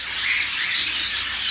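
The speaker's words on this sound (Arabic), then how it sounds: "ومن بين أصوات طيور الكوكتيل وأصوات الجاجي" Cockatiels and budgies chirp and squawk together in a bird room, a dense, continuous chatter of overlapping high calls with no pauses.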